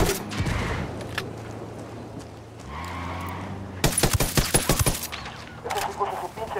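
Bursts of rapid automatic gunfire crackle through a Ghost Recon Wildlands firefight, sharp repeated shots clustered into a loud volley midway, with lower rumbling game ambience and a softer burst before.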